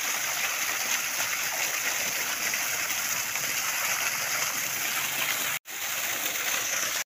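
Irrigation water gushes steadily into a field, a continuous close rushing flow that holds almost unbroken for several seconds.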